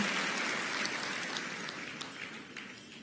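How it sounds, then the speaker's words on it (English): Steady, dense applause from the crowd at a Rwanda Day event in Washington DC for young diaspora dancers, sounding like a continuous rain-like wash of claps that slowly fades. "Another round of applause for them, please."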